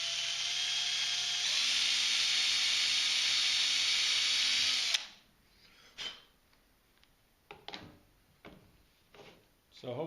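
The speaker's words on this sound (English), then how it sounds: "I'll show you a little drilling." A high-pitched power drill whines steadily for several seconds drilling into a broken carburetor screw, then stops, followed by a few scattered clicks and knocks of handling.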